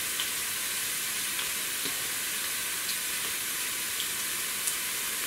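Onions dropped into hot oil where garlic and ginger are already frying give a steady, even sizzle with soft crackles, close up and without speech.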